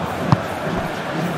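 Corinthians fans in a stadium during the 2022 Copa do Brasil final against Flamengo: a steady, distant crowd roar fills the background, with one brief thud partway through.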